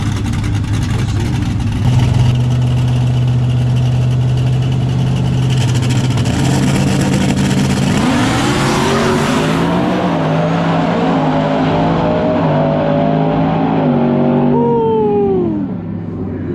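Full-size trucks drag race at a track, their engines roaring loud and constant with rising pitch sweeps as they accelerate down the strip, then fading as they pass.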